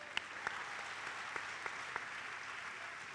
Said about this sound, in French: et nous pouvons l'applaudir également.